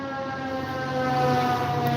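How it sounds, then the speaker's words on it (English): A wailing fire truck siren sounds steadily, growing slightly louder as it passes nearby, with no talking. "a siren going by with the number 2 on it, which was a fire truck."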